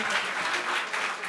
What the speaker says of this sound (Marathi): एकदा जोरदार टाळ्या भाई मित्र.